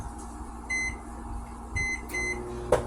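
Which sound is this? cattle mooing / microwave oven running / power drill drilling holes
microwave oven running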